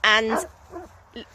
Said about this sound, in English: I don't know if you can hear the dog barking, but there's lots of dogs next door, and Inka is just quite chilled